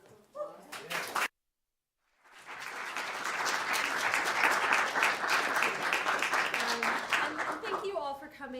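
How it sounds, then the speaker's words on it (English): Audience applause closing a Pecha Kucha student presentation event, starting after a brief moment of talk and a silent gap, swelling into sustained clapping, with voices returning at the end. "Can we just have one more round of applause?"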